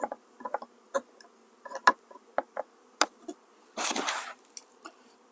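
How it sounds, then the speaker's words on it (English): Honeybees from a nuc being moved into an eight-frame hive make faint, intermittent buzzing. Short buzzes and wing flicks come and go, with one louder burst of buzzing partway through. "She's fanning, trying to call the rest of the bees in."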